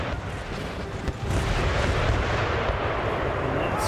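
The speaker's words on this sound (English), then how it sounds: "Smash the Marines with two artillery pieces," Artillery pieces firing in Empire Total War, a dense roar of booming cannon fire and battle noise, loud and continuous with no clear separate shots.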